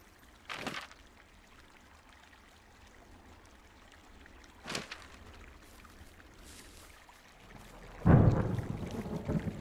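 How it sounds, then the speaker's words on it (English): Thunder in the video game Firewatch: distant rumbles with soft cracks come at intervals over a quiet outdoor ambience, followed by a louder, rolling rumble near the end. "Hey, I heard some thunder."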